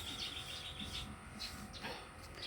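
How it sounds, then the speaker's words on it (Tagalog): Birds chirp in a garden, with several bright, short tweets scattered through soft background ambience. "Libre na ako dito ng sound ng ibon"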